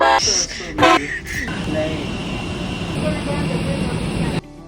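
A Delta Airbus A321 jet airliner taxis and takes off from Salt Lake City at night: a steady, broad cabin rumble and engine roar, preceded by a few seconds of talking, then cutting off abruptly at the end.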